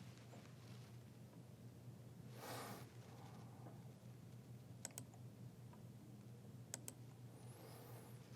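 Faint typing on a computer keyboard while entering a route in a web app, with scattered soft key clicks in an irregular rhythm over a low background hum.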